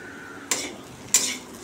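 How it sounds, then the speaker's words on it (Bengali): Potato slices fry in a pan under a soft, steady sizzle, broken by two quick scraping strokes of a spatula stirring them, close by. "এই আলু ভাজা বসিয়েছি"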